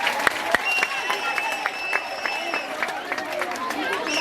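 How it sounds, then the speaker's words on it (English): Secondary school students at a drug-awareness campaign clap for themselves, giving a brisk, scattered round of applause, with crowd chatter and a voice talking over it. "Clap for yourself for this."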